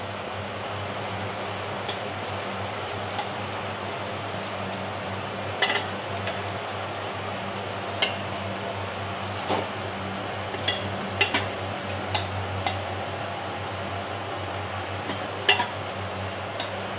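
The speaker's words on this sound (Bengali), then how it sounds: "এবার আমি চাল কুমড়োগুলো দিয়ে দিচ্ছি।" Ash gourd pieces dropped into a boiling pot and stirred, with a steady bubbling bed broken by scattered sharp clinks and scrapes of a utensil against the pot, close by.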